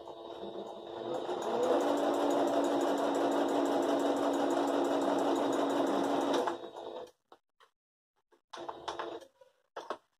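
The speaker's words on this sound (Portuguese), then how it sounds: "E costurar deixando de novo mais ou menos 1 centímetro aqui" A sewing machine stitches fabric for a hexagonal hot pot holder, a fast steady whirring rattle close up for several seconds that stops abruptly, followed by brief handling noises and quiet speech.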